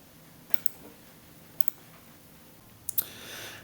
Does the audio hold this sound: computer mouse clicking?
yes